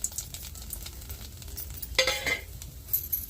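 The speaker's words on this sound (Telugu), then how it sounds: "బాండీలు పెట్టి పచ్చిమిరపకాయలు అయితే కొద్దిగా నూనె వేసి అట్లా వేయించుదాము పచ్చడికి" A little oil in a hot kadai fries green chillies for chutney, a quiet sizzle under stirring scrapes of a utensil against the pan, with one sharper clatter midway.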